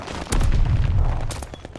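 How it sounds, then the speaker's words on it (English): Gunfire in the video game Call of Duty Vanguard during a search-and-destroy match: a loud close burst of rapid shots with booming low rumble, then a couple more sharp cracks. "Emma, why'd you shoot the whole wall out, Emma?"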